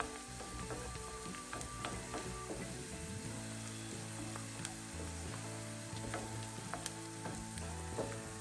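Garlic frying in a pan for Egyptian shakshuka: a soft, continuous sizzle with faint crackles, quiet and steady throughout, with no talk.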